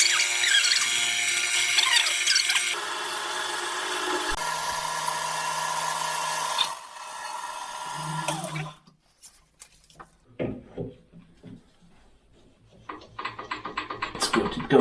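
A small metal lathe cutting material during a Land Rover Discovery frame and engine restoration, with a high whining, screeching cut that shifts in pitch, then stops and gives way to clunks, scrapes and handling noises before spinning up again.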